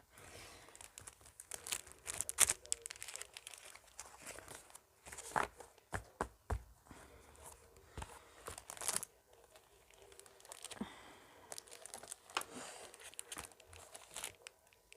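Paper being crinkled and handled up close, with a long run of irregular crackling rustles and sharper crumpling bursts against quiet background, no talking.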